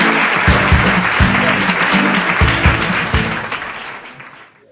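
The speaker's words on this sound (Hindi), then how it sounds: "जोरदार तालियां हो जाए शिवम जी के लिए" A studio audience on a Kaun Banega Champion quiz show applauds a contestant with brisk, loud clapping over pulsing music beats, fading out toward the end.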